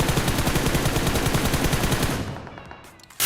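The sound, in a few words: gunfire in the video game BGMI/PUBG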